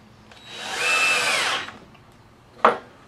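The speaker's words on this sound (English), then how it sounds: "These screws are self-drilling wood screws." A power drill whirs for about a second as it drives a self-drilling wood screw, then stops; a short sharp knock follows.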